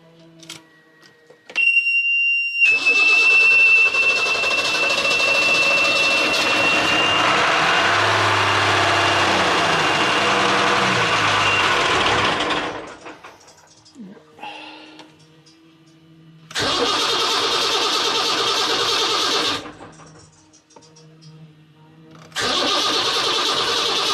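Ford Lehman 120HP diesel marine engine from 1976 cranks briefly, catches and settles into a loud steady idle, then cuts out and restarts twice, with quieter gaps between runs.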